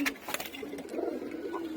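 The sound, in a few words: guest pigeon cooing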